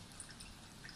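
Coffee dripping through a Japanese pour-over coffee dripper, a steady soft trickle of liquid with faint high drips throughout, quiet and close with no talking.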